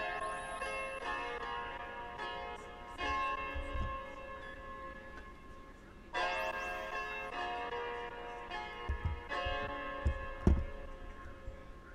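Synth melody from a Maschine patch layered with odd ambient background sounds, bell-like tones sustaining and shifting over soft low thumps; moderate level with no talking.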